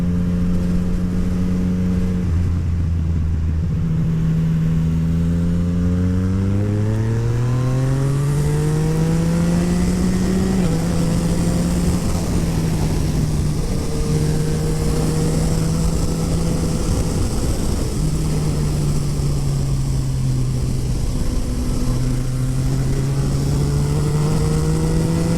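Yamaha MT-09 motorcycle with a full Akrapovic exhaust, loud and close, engine note repeatedly rising through the revs and dropping at gear changes, with steady wind noise throughout.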